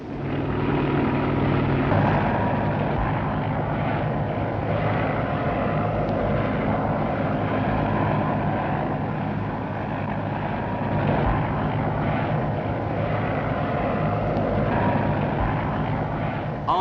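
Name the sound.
helicopter flying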